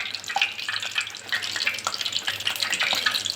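Vadas made from leftover rice frying in hot oil, a soft, continuous crackling sizzle with small bubbling pops close by, no talk.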